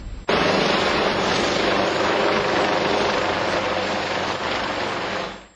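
The helicopter of the Congolese head of state flies over the Congo River to Brazzaville, its loud, close rotor and engine roar droning steadily and alone before fading at the end.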